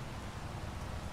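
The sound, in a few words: rain in the video game Farming Simulator 25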